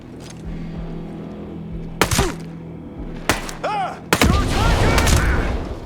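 Loud explosions in the Ghost Recon Breakpoint video game: three sharp booming blasts in quick succession, the last followed by a sustained rumbling roar, over a low steady ambient hum.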